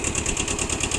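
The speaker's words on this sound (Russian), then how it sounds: "краткий обзор мини-трактора Kubota B6000" A Kubota B6000 four-wheel-drive Japanese mini tractor, fitted with a rotary tiller and PTO, runs steadily up close with a rapid, even pulsing engine beat and a loud mechanical whine, and no voices are heard.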